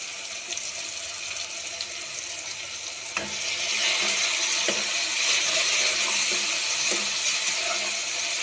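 Spices and turmeric powder sizzle in a pan while upma is stirred, giving a steady close crackle broken by a few sharp scraping knocks from the spoon.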